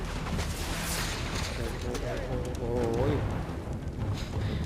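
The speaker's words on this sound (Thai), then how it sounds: "ใครเล่นประทัดวะ" Explosions and gunfire rumble continuously in a Far Cry 3 firefight, sounding like a string of firecrackers going off, a steady low roar of blasts with someone talking and exclaiming over it.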